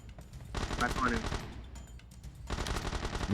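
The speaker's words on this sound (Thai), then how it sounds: "ยิงมาจากรอบนอกนะครับ ส่วนมากอะบอทมันจะอยู่รอบนอกนะ" Sustained automatic gunfire from bots in PUBG Mobile, rapid bursts rattling almost without pause, loud and dense, briefly easing mid-clip before another heavy volley.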